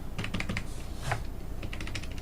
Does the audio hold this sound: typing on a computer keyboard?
yes